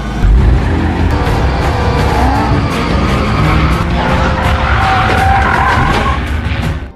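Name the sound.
car skidding during a film car chase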